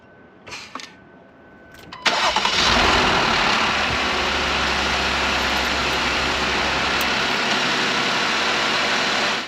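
A vehicle engine cranked with a Hulkman 85S jump starter catches after a couple of seconds and settles into a steady, close idle that holds to the end, preceded by brief clicks.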